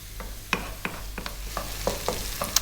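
Finely chopped onions frying on medium heat in a pan for a Rajasthani laal maas mutton curry, a soft steady sizzle with a low hum beneath, broken by about eight sharp scraping stirs at irregular intervals, close and moderately quiet.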